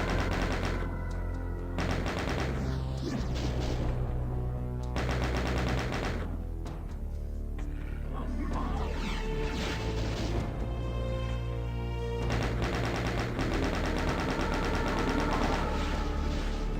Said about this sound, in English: Now we can abuse the chain gun here because we've got lots of it